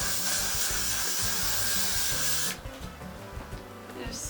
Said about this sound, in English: Time for some hairspray now.